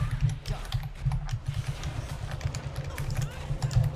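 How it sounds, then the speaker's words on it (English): Noisy computer keyboard keys clicking in quick, uneven bursts, close by, over a steady low hum and faint background babble. "The key clicking is still very noisy."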